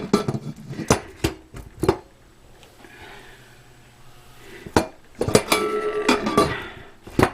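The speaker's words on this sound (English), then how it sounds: "I'm going to put my lid on now." Metal lid clanks and scrapes onto an All American pressure canner on a Cuisinart cast iron burner, sharp knocks in bursts with a quieter stretch between.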